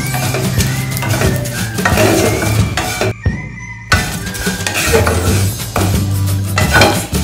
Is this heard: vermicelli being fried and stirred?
yes